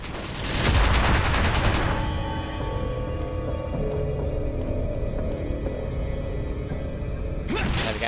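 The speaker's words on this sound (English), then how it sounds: "So you need to actually shoot both of them." Rapid bursts of gunfire in Resident Evil 4 while fighting the U3 boss, a loud stream of shots at the start, then a quieter ringing stretch with mechanical game sounds and another burst near the end.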